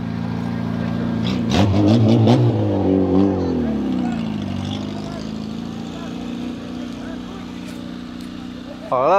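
A stock car racing engine from a Renault 19 race car revs up and then drones on at a steady pitch, fairly close, while a commentator speaks over it throughout.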